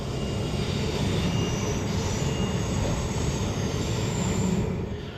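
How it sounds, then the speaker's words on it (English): Steady rumble of a Dutch regional train in motion from inside a carriage, wheels humming on the rails with a faint high squeal, continuous throughout. "that was a very pleasant train ride on the sort of Dutch regional trains"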